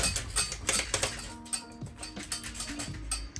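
A loose, wobbly bed frame with screws working free creaks and ticks as someone tosses and turns on it, giving a close series of irregular wooden creaks, small knocks and brief squeaky groans, with no talking.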